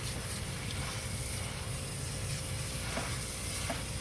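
Water sprays steadily across the wooden parts of a 1977 Boston Whaler 21 Outrage during rinsing, making a constant close hiss with no pause, and no voice is heard over it.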